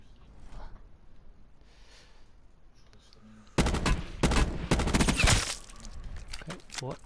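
Automatic gunfire in Call of Duty Black Ops 4 Blackout, sudden loud rapid bursts after several quiet seconds, close and sharp, continuing for about two seconds before tapering, with faint talk earlier.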